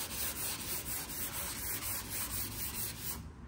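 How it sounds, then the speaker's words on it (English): Car door panel hand sanded with 240 grit paper near the quarter panel, a loud, close, rhythmic back-and-forth rasping scrub with steady strokes repeating about three times a second, alone without talk. "start sanding that just here, and we'll see if it lines up with that quarter panel"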